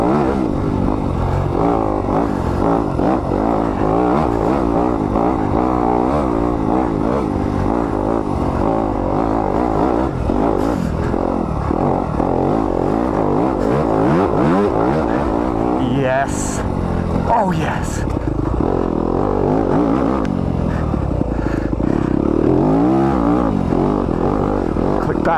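A 2020 Yamaha YZ250FX dirt bike's engine roars steadily as it is ridden hard off-road through sagebrush, roots and rocks, the loud revving continuing throughout with clattering bumps and wind noise mixed in.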